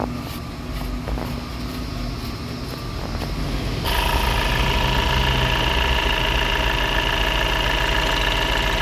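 A cold car engine idles with a newly replaced radiator fan, a steady close mechanical hum and rattle that jumps noticeably louder and fuller partway through as the fan runs, with no voices.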